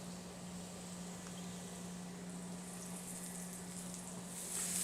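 Quiet, steady sizzling of sliced mushrooms frying in oil in a pan, a soft continuous crackle with a low hum underneath and no talking.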